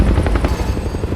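Helicopter rotor thudding loudly and steadily with a low, continuous pulsing drone throughout.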